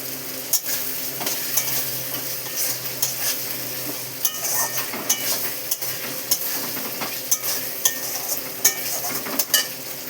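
Fried potatoes being stirred into a sizzling fish curry in a pan, with steady frying crackle and repeated scraping strokes of a spoon against the pot, occasional clinks of metal, close and moderately loud with no talk.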